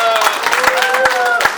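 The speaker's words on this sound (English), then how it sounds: "Please help me give them a round of applause," Audience clapping at a gathering, a short burst of steady applause, close and fairly loud.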